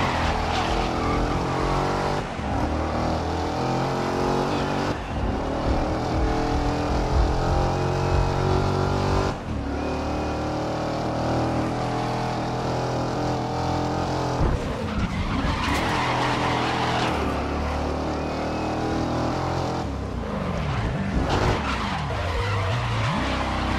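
Race cars roar and skid through corners in the Grid racing video game, engines revving and dropping between gear changes while tires squeal repeatedly over about twenty seconds of continuous, loud motor noise.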